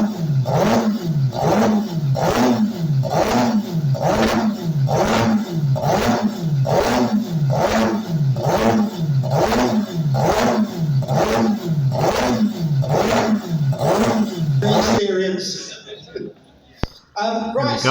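A rotary-engine motorcycle runs loud and close at a rough, lumpy idle, its pulsing exhaust throbbing in a steady uneven rhythm for about fifteen seconds before cutting off abruptly.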